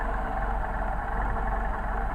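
A warmed-up car engine fitted with a Solex carburetor idles steadily at a fairly fast speed, a low, even, continuous hum close by with no voices.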